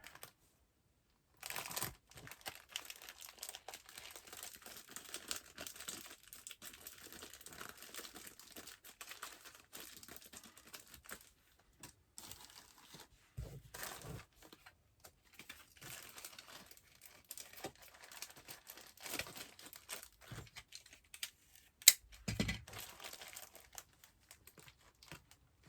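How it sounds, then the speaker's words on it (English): Double-sided tape is handled while a gift is wrapped: soft crinkling, peeling and brief tearing sounds come in irregular bursts. Quiet pauses fall between them, and the sounds are close but faint, with no talking. "use my double-sided tape"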